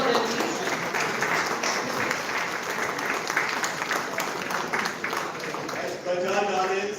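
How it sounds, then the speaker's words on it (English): Sustained crowd clapping at a felicitation during a campus career expo, steady and fairly full, continuing for several seconds without a break. "A big round of applause for them"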